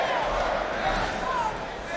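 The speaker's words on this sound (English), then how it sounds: "You hear the crowd roaring." Arena crowd at a college wrestling all-star event, a dense sustained roar with a faint chanting tone running through it, loud and continuous under no clear speech.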